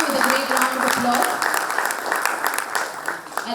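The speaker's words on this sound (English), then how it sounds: "Please welcome him with a great round of applause." An audience at a professional seminar on GST audits gives a round of applause to welcome a speaker, a dense steady clapping that holds loud, then eases slightly toward the end, with voices heard alongside.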